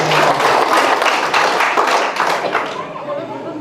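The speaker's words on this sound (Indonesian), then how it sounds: "mari kita beri aplaus yang meriah untuk ibu" Audience at a campaign event applauding the governor's wife, a dense burst of clapping that slowly fades.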